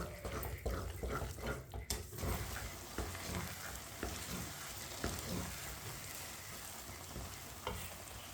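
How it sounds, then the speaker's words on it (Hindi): Semolina halwa cooks over a medium flame while a spoon stirs it, producing soft scraping and frying sizzle with a run of quick clinks early on, fairly quiet throughout and with no talking. "अब इसे ऐसे ही चम्मच चलाते हुए 2-3 मिनट के लिए पका लेंगे।"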